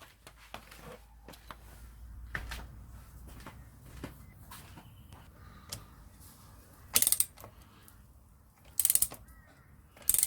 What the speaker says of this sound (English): Need a bigger wrench.